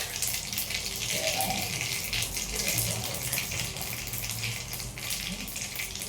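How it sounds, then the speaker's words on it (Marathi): Cumin and mustard seeds sizzle in hot oil as tempering for Maharashtrian pithla, a loud, continuous bright hiss up close that holds steady for several seconds with faint voices underneath. "तेल तापले, आपण घालतोय जिरे, मोहरी."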